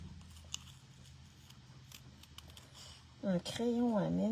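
Scissors cut card paper in light, scattered snips close by. A voice begins speaking near the end.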